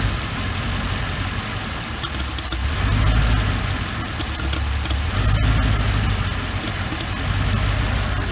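A Mercedes engine with a P0444 purge valve fault and rough idle settles into a steady, smooth idle, a close, even low rumble that holds without speech, with a faint click near the middle.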